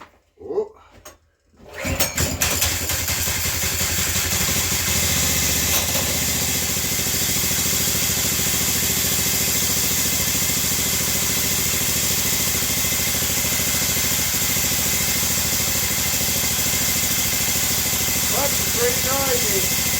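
A go-kart fitted with a Predator 224 Max engine and an old clutch starts after a few quiet knocks, then runs loud and steady at a noisy, rattling idle close by.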